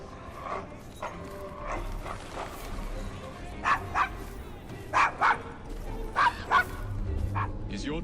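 A dog named Desmond barks in Assassin's Creed Syndicate, a series of sharp, close yaps in small bursts, some in quick pairs, over a low ambient rumble of a rough London district, with speech nearby.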